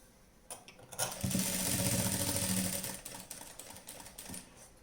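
A sewing machine stitches a night dress in a short, steady mechanical whirring run that rises and then eases off, close by with no talk.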